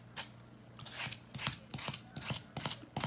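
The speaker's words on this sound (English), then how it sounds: "I wonder if I have any like regular sandpaper" Regular sandpaper rubbed against a rustic patriotic star to fray it, a series of rough, rasping back-and-forth scrapes in an uneven rhythm, close and fairly loud over a low steady hum.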